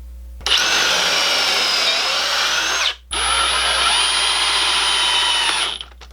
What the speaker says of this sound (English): we're going to add some pocket screws right here on the inside.